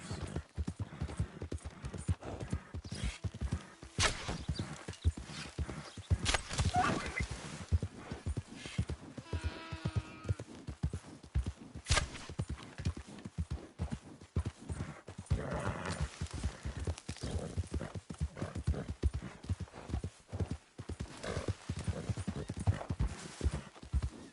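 Horse hooves clip-clop steadily in Red Dead Redemption 2, close and continuous over roughly twenty seconds, with occasional neighs and whinnies breaking through and a voice talking gently to the horse at times.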